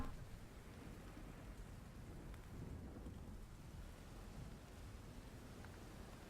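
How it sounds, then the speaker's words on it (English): Steady thunderstorm with heavy rain falling on surfaces, a constant dense wash of rainfall with low rumbling thunder underneath, continuous and even throughout with no speech. "you see the sky riddled with lightning, thunder, and the storm"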